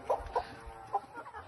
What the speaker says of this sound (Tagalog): Look, ang dami nating chicken. Diba ang amo nila? Ito ang Rhode Island Red.